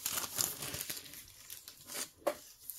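Someone handles and crinkles sheets of craft paper close by, making irregular rustles and sharp crackling bursts with short quiet gaps between them. No one speaks.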